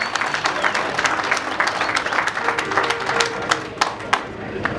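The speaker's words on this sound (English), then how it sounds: "let's give them a warm round of applause weighing up those beautiful fish." A crowd applauds at a fishing tournament weigh-in at the world championships in South Africa, steady clapping with sharp individual claps and a little talk mixed in.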